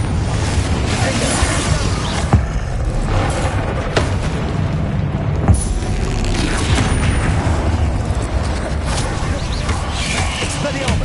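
Repeated blasting spell explosions from Bombarda and Confringo in the Hogwarts Legacy video game, a dense, loud run of booms and impacts with a few sharper bursts standing out over continuous battle noise.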